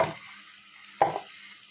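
Pieces of cut, washed magur catfish slide into hot spiced oil, setting off a sudden sizzling burst that fades into a low, steady fry.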